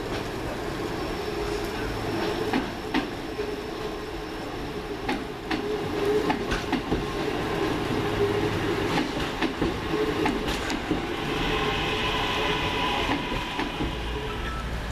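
A Class 323 electric train moves off into carriage sidings at Crewe, its wheels clicking and clacking steadily over rail joints at moderate distance, with ambient station noise.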